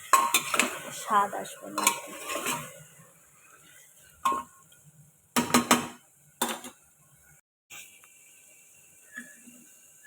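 Mutton curry being stirred and fried in a pan, a run of clattering spoon scrapes and metallic knocks that turn sparse and intermittent, with a brief spoken remark.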